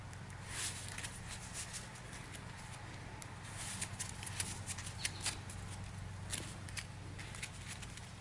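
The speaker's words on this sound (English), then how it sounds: "I'm going to shuffle it back into my deck" Playing cards are shuffled quietly during a tabletop card game, a soft run of quick riffling clicks and taps over a low room hum.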